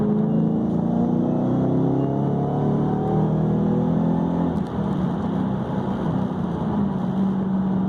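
A Shelby GT500 accelerates hard in third gear, its engine note climbing steadily and loudly from inside the car, with a brief dip near the middle before the pull continues.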